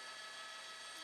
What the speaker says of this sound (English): LAPD's airship still overhead with the night sun off